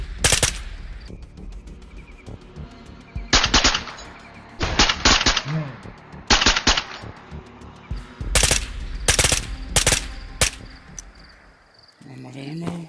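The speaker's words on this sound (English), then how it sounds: "Oh, we're in a firefight, long distance." Long-distance gunfire in a game firefight in Ghosts of Tabor: several distant bursts of rapid shots arrive in uneven clusters, sharp and fairly loud against a quiet background with faint insect-like chirping.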